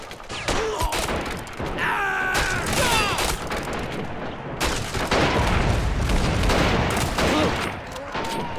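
M16 rifle fire in the Army Men of War game, dense and continuous volleys of gunshots with booming impacts, loud and close throughout, with a faint voice groaning at moments.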